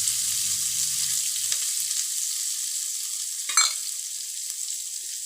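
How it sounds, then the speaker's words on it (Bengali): Chopped onions drop into hot oil with green chillies, giving a bright, steady high hiss, a soft low rumble fading early and a single sharp clink of a utensil midway. "এরপর এতে আমরা পেঁয়াজ কুচিগুলো ছেড়ে দেবো"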